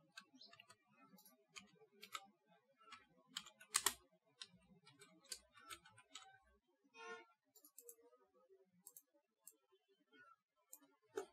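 Keys on a computer keyboard tap out text in quick, irregular bursts, close and fairly quiet, with brief pauses between runs and a louder cluster of clicks now and then.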